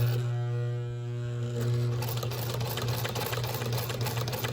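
Sewing machine stitching a courier pouch, a steady mechanical hum that picks up into a fast, even whirring chatter of needle strokes, close and continuous.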